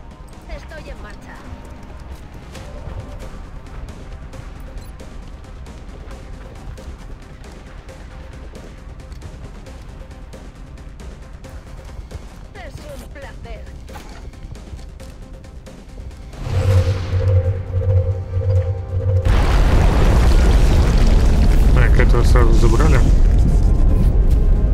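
In the video game XCOM: Long War, a quiet stretch of low ambience gives way to a rocket launch whoosh, followed by a heavy, sustained explosion rumble that fills the last few seconds.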